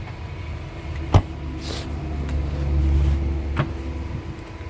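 A Kia K9's powered trunk hums open with a low motor drone, marked by a couple of sharp mechanical clicks and thuds along the way.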